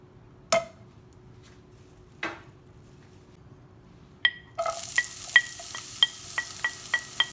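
Onion sautés in a pan for a salt cod pastry filling, a few sharp utensil knocks against the pan and then a bright sizzle with quick, rhythmic stirring taps close by.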